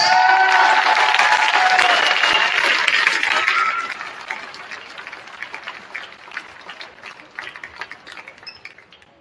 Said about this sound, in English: let's have a round of applause for our seniors and their parents